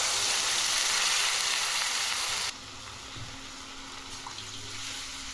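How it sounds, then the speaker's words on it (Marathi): Steady loud sizzling from potatoes frying in a pan, dropping abruptly to a quieter bubbling hiss partway through as water goes in for a fasting bhagar dish. "त्यामध्ये आपण आता पाणी टाकून घेऊ."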